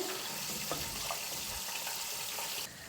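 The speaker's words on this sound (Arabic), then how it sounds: "راح نحط قيس 2 كيسان ونص تاع الماء سخون" Hot water poured into a pan of rice, a steady broadband rush of liquid with a faint hiss, holding level for nearly three seconds before easing off at the end.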